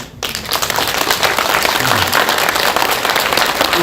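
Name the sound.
audience applause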